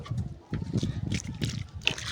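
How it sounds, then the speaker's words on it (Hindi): Water splashes and sloshes as it is poured into a building mixture for a chicken house, coming in short uneven bursts close by, with voices faintly in the background. "ना करो, अब डालेंगे पानी।"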